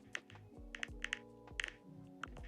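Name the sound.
typing Slovak sentence on a keyboard into app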